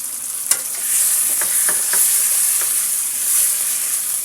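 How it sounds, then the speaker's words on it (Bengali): Ginger-garlic paste sizzles in a pan with browned onions for a chicken and chana dal curry, a steady close frying hiss broken by a few soft scrapes of stirring. "পেঁয়াজের সঙ্গে আমি এখন আদা রসুনটাকে সুন্দর করে ভেজে নেব।"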